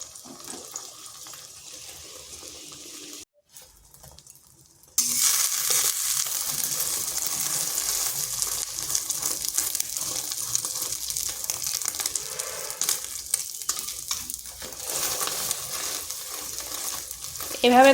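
Beaten egg hits an oiled wok and is swirled around its sides, producing a sudden loud, continuous hiss and crackling sizzle that carries on steadily with faint scraping, after a quieter stretch.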